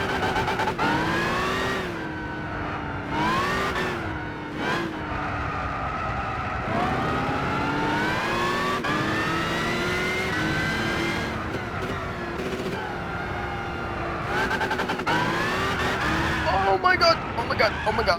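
A Challenger RT engine in Gran Turismo 6 revs hard and repeatedly, its pitch rising and falling through gear changes, with tire skids near the end.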